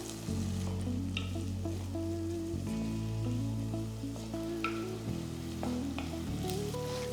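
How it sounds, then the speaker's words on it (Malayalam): Slit green chillies, garlic and ginger sauté in a pan for a sardine curry, crackling and sizzling steadily at a soft level alongside faint tonal background sounds. "ലൈറ്റ് ഗോൾഡൻ ബ്രൗൺ കളർ ആകുന്ന വരെ ഇത് സോട്ട് ചെയ്തെടുക്കുക."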